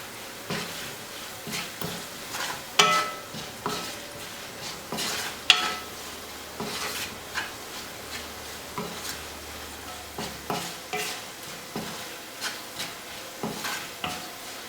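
Fenugreek and asafoetida powder are stirred into a gently frying mixture for white lime pickle (vadukapuli naranga achar), with repeated light scraping and clinking of a spoon against the pan over a faint sizzle, close and fairly quiet.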